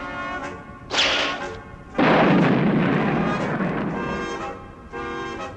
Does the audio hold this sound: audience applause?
no